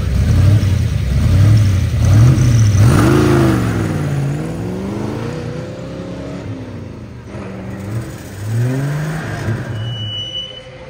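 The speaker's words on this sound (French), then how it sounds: "De Tomaso Pantera GTS, départ pour 5 secondes." A De Tomaso Pantera GTS pulls away from the start of a rally special stage, its engine revving hard and rising through several loud gear pulls before fading, then a second surge as it accelerates off.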